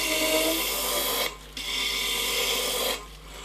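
A crepe rubber block pressed against a spinning disc sander on a lathe to clean the sandpaper, a loud, close, raspy rubbing over a motor drone, with a brief lift partway through.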